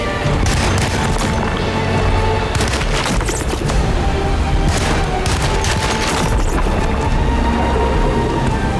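Gunfire and heavy booms from the PC survival horror game Alone in the Dark (Edward), loud and dense, with shots packed closely together over a constant rumbling game backdrop throughout.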